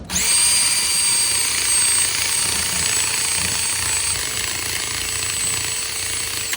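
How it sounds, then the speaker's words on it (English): A cordless drill spinning a rubber eraser wheel whines continuously at high speed with a harsh grinding buzz, loud and close, running without pause. "Basically attach to your cordless drill, and then put on your second speed"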